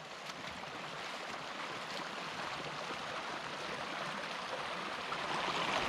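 Steady broadband rush of river water flowing over a gold-panning sluice in a Scottish river, constant and close with no talk.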